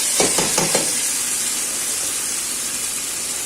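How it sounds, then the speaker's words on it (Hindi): Meat frying (bhunna) in a pot for yahni pulao gives off a steady, loud sizzling hiss, with a few sharper spurts of crackle near the start over the continuous steamy frying. "अच्छे से भून लें सब चीज़ों को"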